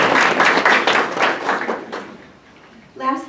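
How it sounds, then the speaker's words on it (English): Applause at a school board meeting, a burst of clapping that fades out over a couple of seconds before a voice starts speaking at the end. "So a round of applause."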